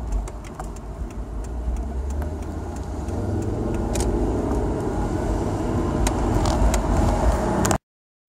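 A Volvo V50 drives along with a steady interior road rumble and engine hum that swells slightly as it picks up speed, with faint ticks and rattles, before cutting off.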